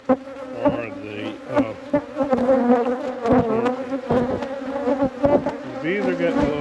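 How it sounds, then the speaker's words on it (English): Honeybees buzz excitedly around a hive during swarm queen cell harvesting, a loud close droning hum with wavering, rising and falling tones as individual bees pass near and bump about, broken by occasional clicks and knocks. "bees are getting a little excited"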